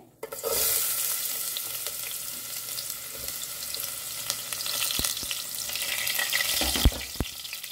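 Two chopped onions being fried in a pan, a loud hissing sizzle starting abruptly and holding steady, with occasional stirring clicks and scrapes near the end, no voices.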